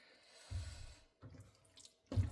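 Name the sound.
water rinsing cashew paste from mixer jar, poured into curry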